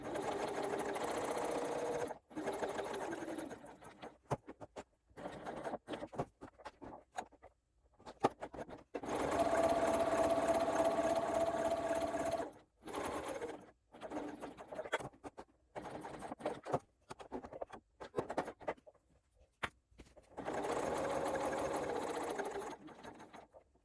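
A sewing machine stitches across a bag handle in repeated bursts of rapid, rattling whirring, stopping and restarting several times with quiet pauses between runs.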